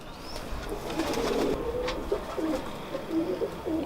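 Soft, low pigeon cooing murmurs in a few rolling phrases, close by, over a faint background hiss.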